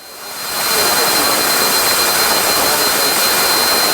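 A twin-engine Cessna 340 in flight with its engines powered up gives a loud, steady, broadband roar that swells in over the first second and then holds constant.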